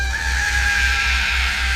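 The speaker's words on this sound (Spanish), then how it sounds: "el animal lanzó un chillido agudo" A goat's shrill, sustained squeal is used as a sound effect in a horror story. It is a loud, piercing cry held steadily over a throbbing low rumble.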